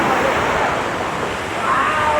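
Black Sea surf washing onto a resort beach in Georgia, a steady broadband wash of breaking waves with some wind noise, fairly loud and continuous throughout.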